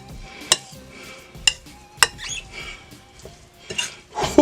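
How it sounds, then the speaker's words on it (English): A spoon clinks and scrapes against a bowl while parsley is stirred into an oyster dressing, sharp metallic taps recurring about once a second over soft mixing sounds, close and clear. "And I'm adding a little bit of parsley to it. We're going to mix that up real good."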